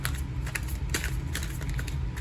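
Tarot cards are shuffled by hand in quick, dry riffling and tapping bursts, close and soft, with no talk over them.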